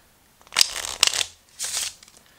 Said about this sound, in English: the way that I do a Riffle Shuffle, kind of the traditional way to do it,